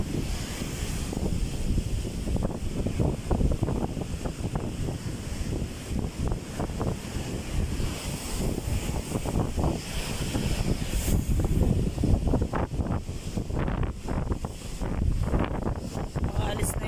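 Typhoon Egay wind roars along a storm-damaged coast, buffeting the microphone in loud, steady gusts over continuous crashing surf and churning water.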